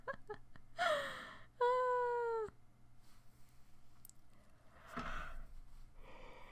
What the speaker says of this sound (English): Excuse me, big yawn.